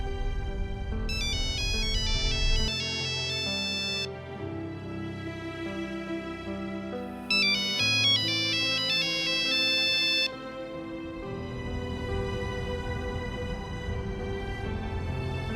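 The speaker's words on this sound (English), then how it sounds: "Then the phone rang." Telephone ringing during a family drive, a repeating electronic ringtone melody with bright bursts that play in two long phrases with a gap between them, steady and fairly loud over a low background hum.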